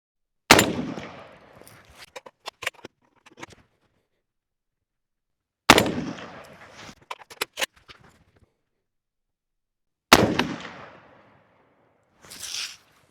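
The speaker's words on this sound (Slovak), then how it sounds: "vystrelím, potom dobijem ďalšiu a potom vystrelím znova a pôjdeme sa po týchto troch ranách pozrieť na terč" Grand Power R308 rifle in .308 Winchester fired at a target: three loud, sharp shots spaced several seconds apart, each followed by echoing decay and clicks of the action being cycled between shots.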